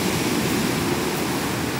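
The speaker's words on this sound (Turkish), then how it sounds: "Korkunç bir dalga." Rough sea waves crash in a loud, steady roar of broadband surf noise, close by and without pause.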